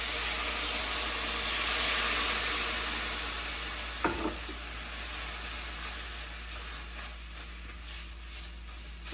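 Elk stroganoff sizzles in a pan with a constant frying hiss, broken by a sharp spoon clack and a few soft stirring scrapes partway through.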